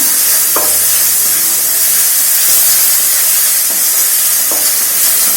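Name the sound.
crushed chillies sautéing in oil in a pan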